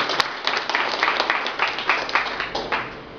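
Audience at a spiritual talk claps together, a close, busy patter of many hands with slight surges, lasting a few seconds with no voices over it.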